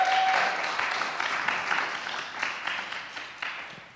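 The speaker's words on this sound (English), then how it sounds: "Can we give them a clap and thank them for..." A church congregation claps together, a thick wash of applause that starts full and gradually thins and fades over four seconds, with a few individual claps standing out near the end.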